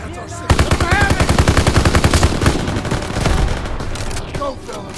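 Rapid automatic gunfire from a Call of Duty: WWII battle, loud, dense bursts of machine-gun fire with shots overlapping steadily for several seconds before easing off slightly.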